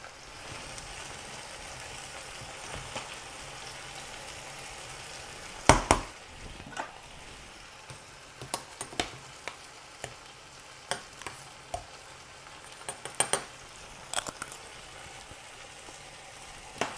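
Vegetables for Antillean chicken colombo sizzle steadily in a pot, with scattered sharp clicks and scrapes of a utensil working through them at irregular intervals.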